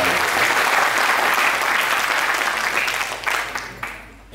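Loud, sustained applause from the audience at a toppers award ceremony, a dense wash of clapping that holds steady before thinning out near the end.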